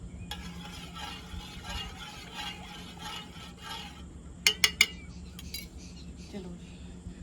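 Stirring shardai (thandai) drink with milk, with soft repeated swishing and scraping in a vessel. Three sharp clinks of a utensil come near the middle, followed by fainter stirring.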